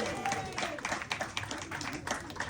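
A comedy show audience in Columbus applauding, steady dense clapping from a crowd that continues throughout, with a voice calling out over it.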